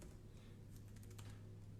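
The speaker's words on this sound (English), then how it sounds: "I'll just type in the words as a comment." Computer keyboard typing, a short run of quiet, quick key clicks over a low steady hum, close and faint.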